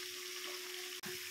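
Small shallots fry in hot oil in a pan for a fish curry, giving a steady close sizzle with a constant hum beneath and one brief dropout near the end.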